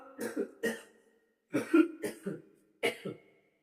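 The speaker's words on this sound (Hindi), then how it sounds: "थोड़ी खांसी हो गई कोई।" A series of harsh coughs comes in three quick bursts, two or three coughs each, with short silent gaps between them. Close and fairly loud, no talking.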